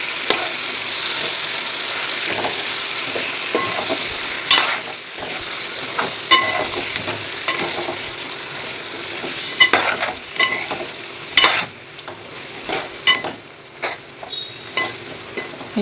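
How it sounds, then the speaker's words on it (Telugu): Chicken stirred into hot oil in a pan for curry, a continuous sizzle with frequent scraping strokes that grow busier toward the end, close and loud with no voices. "మనం పక్క పెట్టుకున్న చికెన్ని మంచిగా ఆయిల్లో మిక్స్ చేసుకుందాం."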